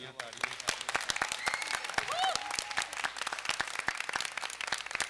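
A theatre audience at a Punjabi drama competition claps for the writer and director of a university play, steady dense applause throughout with a voice speaking over it.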